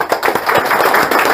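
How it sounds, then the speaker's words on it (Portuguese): A crowd at a ceremony handing out the first authorizations breaks into dense, steady applause, many hands clapping close and loud for just over a second. "uma salva de palmas para vocês"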